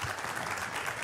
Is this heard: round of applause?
yes